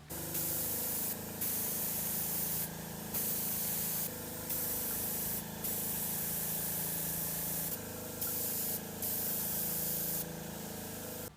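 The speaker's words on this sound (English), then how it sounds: "I had access to an airbrush, so I chose this method to apply the paint." Airbrush spraying thinned burnt sienna paint onto a plastic Han Solo DL-44 blaster prop: a steady close airy hiss in repeated long bursts, briefly pausing between passes, with no talk.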